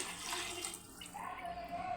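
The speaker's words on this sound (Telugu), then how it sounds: "ఇదే గ్లాస్ ఐదున్నర గ్లాసులు అయితే వాటర్ అయితే పోస్తున్నానండి" A continuous soft rush of water pouring into a pot of fried rice runs throughout, fairly quiet, with a slight rise in pitch toward the end as the vessel fills.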